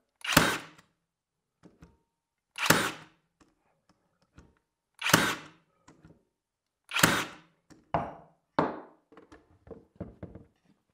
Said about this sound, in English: We'll go ahead here with those 2 inch nails on this pine trim.